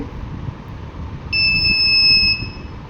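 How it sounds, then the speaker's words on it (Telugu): An Arduino soil moisture sensor's buzzer gives a single steady high-pitched beep lasting about a second as the probe is dipped into a cup of water, heard over a low background hum. "నేను ఎప్పుడైతే డిప్ చేస్తానో అప్పుడే ఇక్కడ రీడింగ్స్ ప్లస్ బజర్ కూడా మనకి వస్తుంది"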